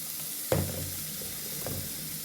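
A chicken curry base fries with masala powder in a pan, making a faint, steady sizzle broken by one sharp utensil knock and a softer scrape a moment later.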